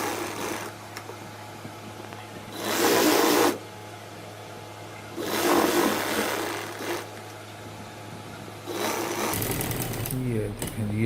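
Sewing machine stitching the folded edge of a gents kameez cuff, running in three loud sustained bursts with pauses between, with a voice talking over the quiet stretches.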